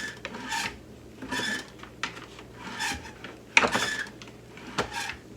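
Rhythmic rasping strokes of a reloading press crimping a 20 gauge steel-shot duck load shotshell topped with a nitro card, about six scraping pulls in steady succession with one sharper click, close and alone.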